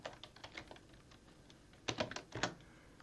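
Keystrokes on a computer keyboard while naming and saving an asset in Blender, scattered taps followed by two quick dense bursts of typing, close and fairly quiet with no voices.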